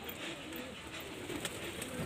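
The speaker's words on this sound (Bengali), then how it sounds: "মাদি পায়রা।" A female pigeon, a golden-eyed Kalo Dana bird of the Tikki bloodline, coos softly somewhere in a continuous hissy background, with no talking in the clip.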